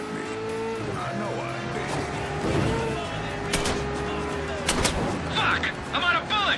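A few sharp gunshots crack out in the Mafia 3 video game, standing out over a running car engine while voices talk throughout.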